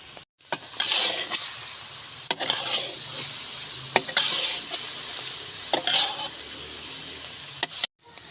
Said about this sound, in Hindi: अब घी डालने के बाद हमने इसे अच्छे से मिक्स करना है और इसकी हमने भुनाई करनी है।